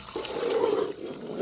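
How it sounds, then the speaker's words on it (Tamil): Water pours steadily into a pot of sambar for about a second, a close, splashing rush that tapers off, with no voices. "சாம்பாருக்கு அளவாக தண்ணி சேர்த்துக்கிறேங்க"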